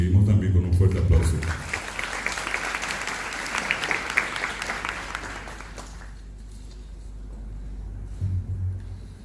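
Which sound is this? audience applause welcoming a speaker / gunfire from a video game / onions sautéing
audience applause welcoming a speaker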